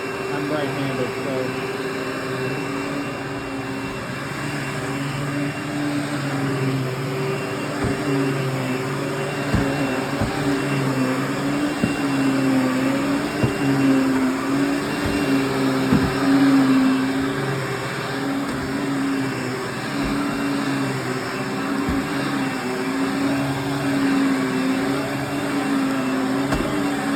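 A Hoover WindTunnel bagless twin-chamber vacuum cleaner runs continuously with a steady droning whine and motor hum, with occasional knocks and bumps while people talk over it.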